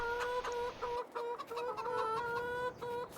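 Old chickens on a farm give steady, fairly close clucks and short tonal calls, repeating in quick clusters over quiet outdoor background.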